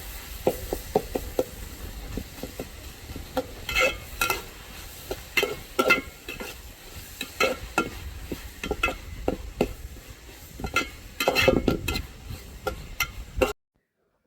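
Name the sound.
stirring tomatoes for biryani in a pan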